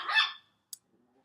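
A dog gives one short, sharp bark up close, followed by a tiny click and faint low traces, then quiet.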